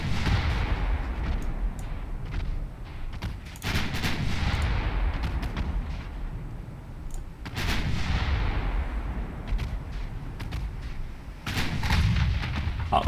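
Naval main gun artillery fire in the warship game Ultimate Admiral Dreadnoughts: several loud, booming salvos arrive in separate bursts, each fading into a rumbling tail.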